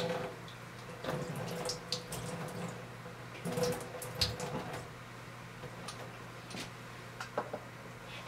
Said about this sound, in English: Place the chamber under running water.